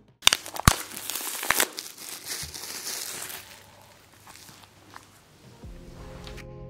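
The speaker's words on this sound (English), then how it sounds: "I have a thing about not using scissors and just opening things with my bare hands." Sealed plastic packaging on a limited edition album being torn open by hand, with sharp crinkling and ripping bursts up front, then quieter rustling handling and a faint hum near the end.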